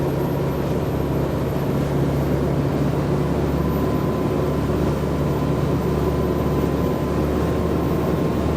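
A Duchy 27 gentleman's cruiser motoring at about 2,600 revs and 13.4 knots with a non-standard engine, giving a constant loud low engine drone with rushing water and hull noise, steady throughout with no talk.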